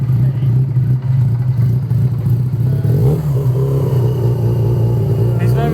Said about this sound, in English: He's very nicely revving it for us.